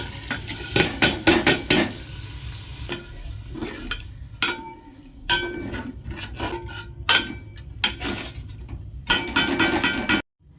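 Spices frying and being stirred in a pan over low heat, with irregular bursts of scraping and rasping strokes separated by quieter sizzling gaps, close and moderately loud.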